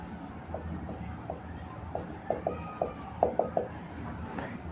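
Pen writing out a geometry solution on paper, soft scratchy strokes and small taps coming in short irregular bursts, quiet and close over a faint room hum.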